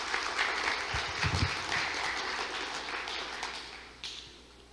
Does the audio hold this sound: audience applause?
yes